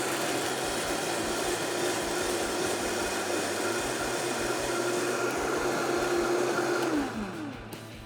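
A blender purees reconstituted guajillo, arbol and ancho chilies with a loud, steady motor whir, its pitch holding and then dropping as it spins down near the end.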